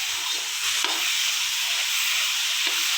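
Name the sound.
potatoes frying in a pan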